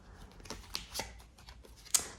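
Oracle cards are handled and flipped over during a reading, giving a few soft, quick papery flicks and slides close by, with one crisper snap near the end.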